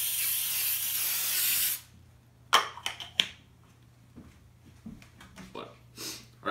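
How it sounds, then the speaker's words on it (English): Baking spray coats a cake pan in a steady broadband aerosol hiss for under two seconds, then it stops, followed by quiet clicks and faint handling noises. "you want to get your pan baking spray, and you want to coat the sides and the bottom"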